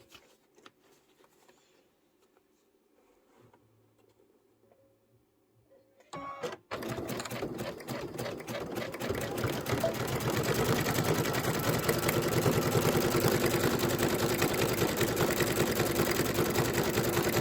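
A sewing machine stitches freestanding lace, starting after a few quiet seconds of faint handling, then running as a fast, steady mechanical chatter that grows slightly louder and continues close-up without talk.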